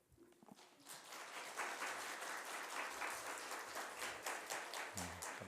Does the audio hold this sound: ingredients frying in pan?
no